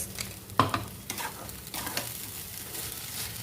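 Ground mustard spice paste stirred and frying in a pan over lowered gas, a soft sizzle broken by a few sharp spoon scrapes and knocks, close by with no talking.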